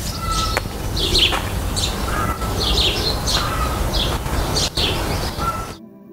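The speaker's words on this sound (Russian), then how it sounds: "Гостеприимный монастырь нас встретил пением птиц" Songbirds chirp and sing in repeated bright phrases at a desert monastery oasis in the Jordan valley, steady over a low ambient rumble before the sound cuts off abruptly.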